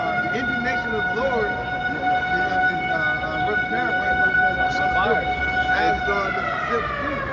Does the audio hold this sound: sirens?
yes